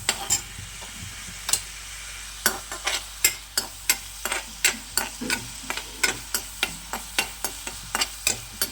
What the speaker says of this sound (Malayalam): ഇട്ടിട്ട് നന്നായിട്ട് വറുത്തെടുക്കുക